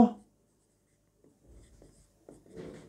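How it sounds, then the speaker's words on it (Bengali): A fraction is written by hand during a class six math lesson, with soft, intermittent pen strokes that grow scratchier toward the end, heard alone and close. "আবার কি ভগ্নাংশ লিখব"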